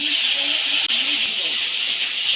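A paste of ground chili, cumin and coriander mixed with water hits hot oil in a pan, giving a loud, continuous broadband sizzle that holds steady, with one brief dip partway through.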